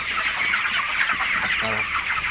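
Broiler chickens on their twenty-fifth day in a poultry shed, a flock clucking nearby in short overlapping calls, with one clearer cluck near the end.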